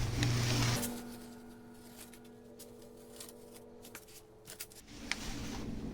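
Masking tape is peeled off a tiled floor beside the wall after caulking a long, narrow gap, giving a few soft, quiet ripping and crinkling sounds close by after a brief louder rustle at the start.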